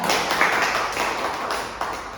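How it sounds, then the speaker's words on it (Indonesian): A classroom group applauding themselves during an accounting lesson, a brief dense wash of clapping hands throughout with no talk. "tepuk tangan untuk kita semua"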